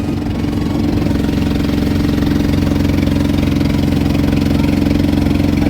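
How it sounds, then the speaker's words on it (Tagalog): A small motorized boat's engine runs steadily on a narrowing but deep waterway, a loud, close, continuous low throb with a regular firing rhythm and no voices over it. "nag-iba tunog ng makina ng bangka."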